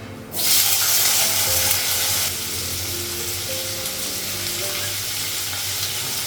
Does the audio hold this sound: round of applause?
no